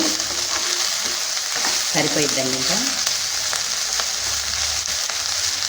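Tender tamarind leaves and peanuts frying in a pan, with a continuous close sizzle and crackle of stirring while someone speaks briefly over it.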